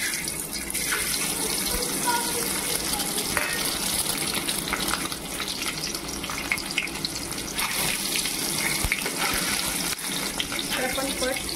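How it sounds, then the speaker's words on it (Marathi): Boiled eggs, scored all over, fry in hot oil for egg curry, making a loud, continuous sizzle and crackle up close with faint speech partly heard underneath. "तेल गरम झालेलं आहे। तर आपण अंडी ब्राऊन करून घ्यायची आहेत।"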